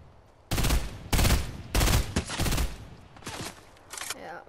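Bursts of gunfire in the Fortnite video game, including FAMAS and burst rifle fire, come as about six loud, close volleys of rapid shots with short gaps between them.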